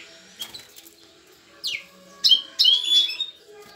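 Short chirps and tweets come from an aviary holding a silver-grey Española canary and goldfinches, sounding in scattered bursts with a few wing flutters between them.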